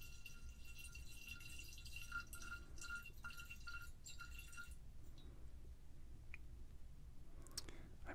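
Shieldaig 25 year whisky poured into an infinity bottle: faint, close glassy liquid trickling and dripping, a quick series of small drips, then quiet, in a hushed setting.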